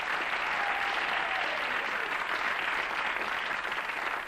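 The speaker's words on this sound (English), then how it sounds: "Audience cheering there." A talent-show audience applauds and cheers in a steady, dense wash of clapping that runs throughout, loud and continuous with no clear pauses.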